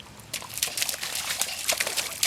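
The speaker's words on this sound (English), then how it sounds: "You can hear the creek over there." A creek trickles and splashes nearby outdoors, a continuous watery babble with uneven bursts of brighter gurgling and no voices over it.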